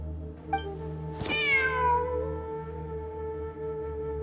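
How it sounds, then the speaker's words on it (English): A cat meows in Genshin Impact, one clear drawn-out meow rising then falling, close and alone over a steady low game ambience hum. "Wait, there it is! The cat!"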